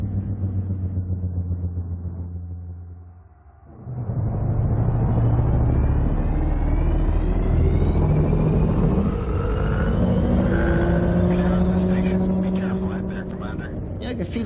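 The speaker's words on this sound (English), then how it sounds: "Very sort of vibrating sort of sound." Cobra MKV spaceship engines in a video game, a loud droning rumble that dips briefly, then swells back with rising whining harmonics as the ship boosts, continuous and close.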